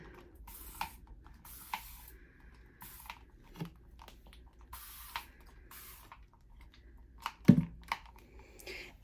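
Distilled water sprayed from a hand mister inside a glass terrarium planted with begonias, Fittonia and live moss: several short hissing bursts, close and fairly quiet, separated by small clicks and handling noises.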